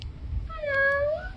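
A cat meows once, close and moderately loud, with a rising then falling drawn-out tone over low background rumble.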